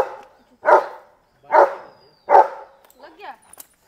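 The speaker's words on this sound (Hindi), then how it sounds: "क्यों नहीं भौंकेगा? वो जानता भी थोड़ी है उनको।" A dog barks three times in a steady rhythm, loud and close, then gives a few softer whimpering yips; it is reacting to unfamiliar people at a family home where a wedding was planned.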